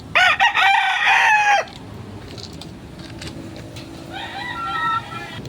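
Backyard chickens with a rooster crowing loudly up close, its drawn-out harmonic call filling the first moments, followed by quieter scattered clucking and a second, fainter crow rising near the end over a steady farmyard background.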